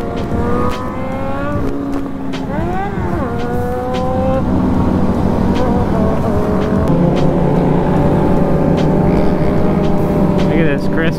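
Motorcycle on a fast ride, engine note rising and dropping as it shifts up through the gears, with steady loud wind roar throughout and brief quieter dips between pulls.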